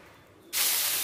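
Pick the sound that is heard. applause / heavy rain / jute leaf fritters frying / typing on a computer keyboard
jute leaf fritters frying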